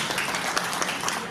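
Dense, brisk applause rises briefly from the audience at an Indian film award announcement ceremony, steady clapping with no voices heard.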